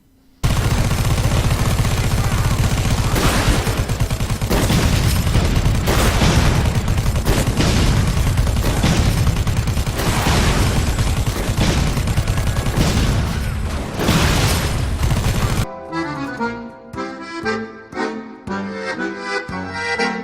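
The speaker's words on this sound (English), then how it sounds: "Also, it has a Gatling gun and a grenade launcher on it." Rapid heavy gunfire from a Gatling gun mixed with grenade launcher blasts from the Warmonger vehicle in Dead Rising 4, a loud, dense continuous barrage that cuts off near the end, giving way to softer game sounds.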